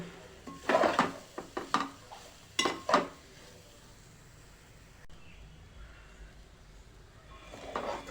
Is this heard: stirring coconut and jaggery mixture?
yes